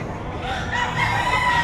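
Chickens crow and cluck at the Padre Garcia livestock auction market in Batangas, a steady mix of nearby rooster calls over a crowd murmur.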